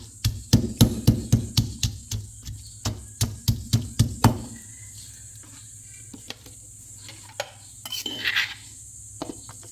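Bitter gourds (karela) being pounded to crush them for a recipe, a run of loud, close, regular thuds for about four seconds, then a few scattered knocks and rustles.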